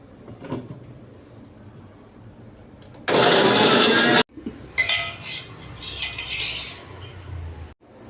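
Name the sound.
mixer grinder blending coconut tomato chutney to paste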